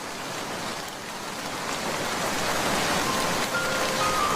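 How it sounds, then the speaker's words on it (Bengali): Steady hiss of rain pouring down, growing slightly heavier, with a dense wash of noise and no voices. "এখন তো ঝড় বৃষ্টি হচ্ছে।"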